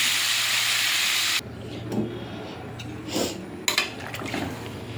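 Water is poured into a pan of simmering mourala fish and potato curry, giving a loud hissing sizzle that suddenly drops to a softer bubbling. Light clinks and stirring sounds follow.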